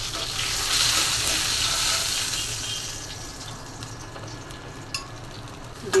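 Fish roe sizzles steadily in a hot frying pan in a home kitchen, a dense crackling hiss that is loudest early and then eases slightly, with a few light stirring clicks near the end and no voices.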